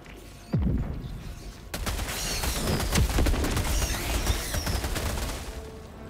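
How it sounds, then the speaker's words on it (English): Orbital strike firing in Helldivers 2: a sharp blast, then a dense, sustained barrage of booming impacts and crackling gunfire-like explosions rolling on loudly to the end. "Firing orbital strike"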